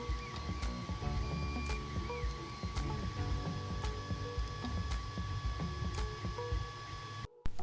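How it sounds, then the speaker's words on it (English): A 3D printer prints a replacement firewall part for a cardboard model airplane, giving a steady mechanical whir with faint ticks and stepper-motor whines running throughout, cutting out briefly near the end. "3D printing a new one now."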